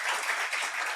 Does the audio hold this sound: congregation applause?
yes